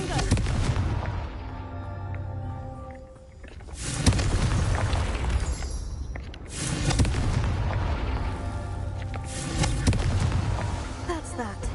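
In Hogwarts Legacy, the Confringo fire spell sets off repeated booming blasts with crackling, rumbling tails, dense and loud against a continuous game soundscape.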